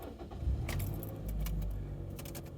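Car keys jangle and rattle in short metallic bursts near the microphone inside a car, over a low, steady engine-like rumble, with no one talking.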